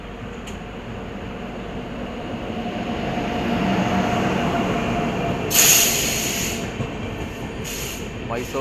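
The Lalbagh Express departs Bangalore Cantonment station with a heavy rumble that slowly swells, then a sharp high squeal of wheels or brakes cuts in briefly near the end, loud and close.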